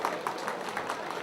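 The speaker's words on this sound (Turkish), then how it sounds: "Beyefendilere de kocaman bir alkış alalım şöyle." Applause from guests at a Turkish circumcision ceremony, a short steady wash of clapping with faint rhythmic pulses, moderately loud and continuous.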